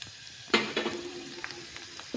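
Hot tempering oil crackles in a pan as homemade spice masala goes in, with a sudden burst of sizzle and a couple of clinking stirs, then a quieter steady hiss, close and fairly soft.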